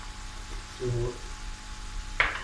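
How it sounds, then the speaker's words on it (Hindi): Chicken with ginger being stirred in a frying pan, with a soft sizzle and a brief scraping stir midway followed by a sharper clatter near the end, moderately close. "अब ये है कि हम इसको थोड़ा सा हिला देते हैं।"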